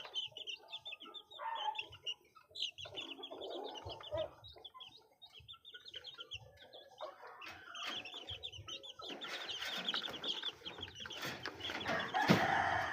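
Chickens and newly hatched chicks cluck and peep continuously at close range, with a busy, rising chorus toward the end and a possible crow in the mix.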